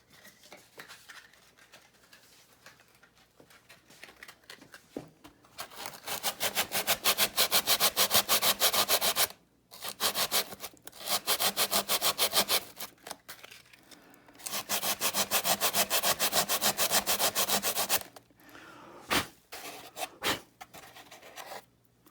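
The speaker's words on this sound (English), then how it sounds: "Sandpaper." Sandpaper is rubbed by hand on a Freewing Cougar model jet during a turbine conversion, in several long bursts of rapid back-and-forth strokes separated by short pauses, close and fairly loud with no talking.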